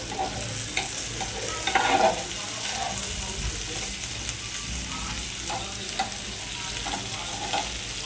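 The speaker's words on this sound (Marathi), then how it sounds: "मी आता तिला थोडासा टाइम लागेल फ्राय होण्यासाठी" Pomfret fish frying in a pan, with a continuous close sizzle, occasional spattering pops and stirring or scraping sounds, steady and moderately loud, and no voices.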